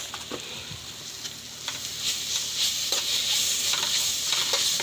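Noodles frying in a home kitchen pan as Schezwan chutney is added give a steady, close sizzle with scattered clicks and scrapes of stirring, growing slightly louder toward the end, with no voices.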